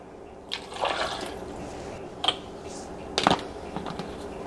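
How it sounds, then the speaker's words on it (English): Water is poured into a blender or container of peanut salsa taquera ingredients with chicken bouillon. A few soft splashes and trickles sound in short bursts at close range, quiet against room noise. "I'm going to add a little bit of water."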